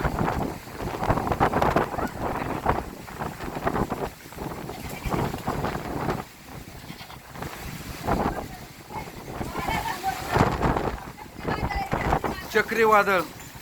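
Strong cyclone wind in Baramati buffets the microphone with a steady roar and rain noise underneath, while voices talk loudly through much of it.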